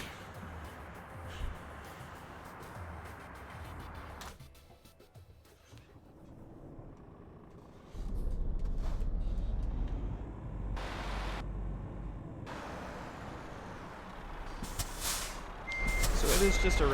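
A simple baseline truck in Euro Truck Simulator 2 idles and rumbles with a low engine drone, joined by a series of sharp repeating reversing beeps and a hiss of air brakes, with occasional game sounds.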